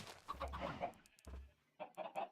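A Minecraft chicken clucks repeatedly in quick, choppy bursts, faint and somewhat distant.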